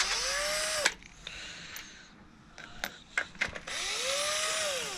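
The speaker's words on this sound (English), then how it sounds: "We've got the little drill to undo them." A small power drill undoing nuts on a SAAB 9-5 headlight level sensor whirs loudly in two sustained bursts with a rising-falling pitch, separated by a quieter stretch of clicks and clunks.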